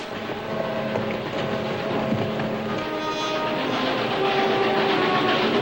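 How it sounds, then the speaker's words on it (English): A train rumbles steadily with rhythmic rail clatter and a faint horn tone, loud and continuous as it draws close. "the train's coming. I know, I can hear."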